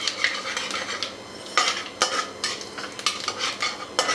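Whole cumin and panch phoron spices stirred in a pan with a metal utensil, loud repeated scrapes and clinks against the pan over a light background sizzle, close and uneven in rhythm.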